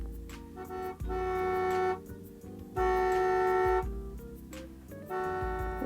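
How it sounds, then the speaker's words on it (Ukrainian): A car horn blares in three long honks separated by short pauses, loud and close. "а це сигнал машини"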